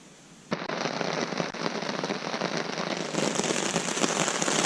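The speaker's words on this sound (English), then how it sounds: "it started to rain pretty good" Rain falls steadily on a forest campsite at night in Pennsylvania's Allegheny National Forest, starting abruptly as a dense, crackling patter close by that continues without a break.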